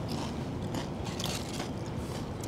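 Crunchy bites into an airy, flaky, crispy Filipino chicharron-like snack, close to the mic, with steady chewing and crackling that runs through the whole stretch and no talking.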